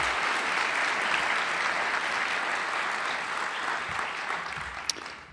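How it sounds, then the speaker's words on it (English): Sustained audience applause fills a university address hall for university leaders, a steady dense wash of many hands clapping at even loudness throughout, with no speech over it. "Please join me in a round of applause for our university leaders."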